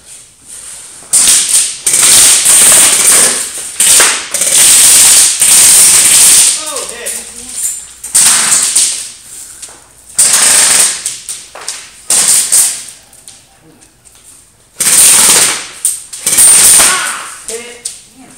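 Airsoft guns fire fully automatic during an outdoor skirmish game, with repeated rapid bursts of sharp cracking shots separated by pauses. Players call out in between the volleys.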